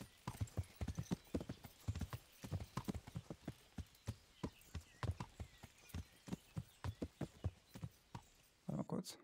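Horse hooves clip-clop at a steady walking rhythm while riding in the video game Kingdom Come, continuous and fairly close with a brief snort near the end.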